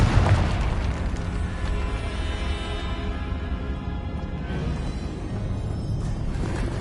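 A Confringo fire spell explodes in the game Hogwarts Legacy, a loud low boom that rolls into a sustained roaring, crackling rumble lasting several seconds with no voices over it.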